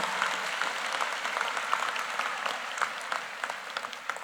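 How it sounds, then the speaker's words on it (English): Audience at a high school commencement applauding the teachers and staff: a sustained, even wash of many hands clapping, somewhat distant and moderate in level, continuing for several seconds without speech. "You deserve another big round of applause, please"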